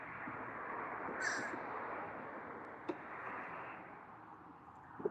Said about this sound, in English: There's a loud bird out here.